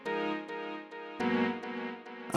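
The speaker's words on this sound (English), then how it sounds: "add a bit of chorus," Sustained synth chords with a shimmering chorus effect from a Stacks granular looper synthesizer, changing every half second or so in a steady rhythm, played alone and fairly loud.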